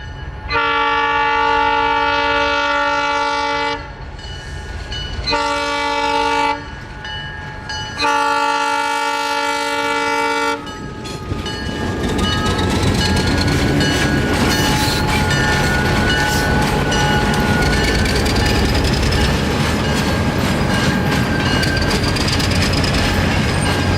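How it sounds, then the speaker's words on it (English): Old Alco locomotive pulling a passenger train across a road crossing, three long loud horn blasts followed by a near, rumbling pass with clattering wheels and squealing. "the train crosses Dickey Road once again"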